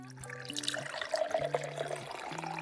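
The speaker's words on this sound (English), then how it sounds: "And when I pour this through, so you're gonna hear this." Water poured through an all-copper water structuring device filled with crystals makes a close, continuous splashing trickle, joined by a brief gurgling rush midway and soft tonal ringing underneath.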